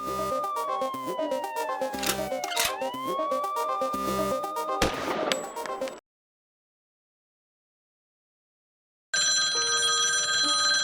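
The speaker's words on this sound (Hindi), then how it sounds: "पुलिस स्टेशन में सुबह सुबह फोन की घंटी बजने लगी" A police station telephone rings in the morning with warbling electronic tones over a musical bed, cuts to silence for a few seconds, then a bright ringing tone resumes.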